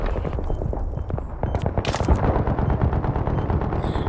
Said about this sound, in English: They're shooting from the building across.